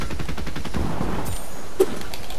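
Rapid bursts of automatic gunfire in a Fortnite-style online battle game during a duo cash cup match, dense rattling volleys through the first half, then sparser shots and a single sharp crack near the end.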